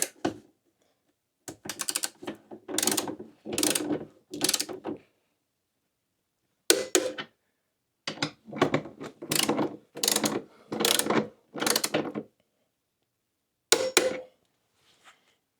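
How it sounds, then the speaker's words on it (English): A torque wrench clicks in rapid ratcheting bursts while tightening screws on a Victron Lynx busbar, with several close, crisp runs of clicking separated by short silent pauses. "We need to torque these down to 33 Newton meters, which ends up being about 24 foot-pounds. So I've got my torque wrench here."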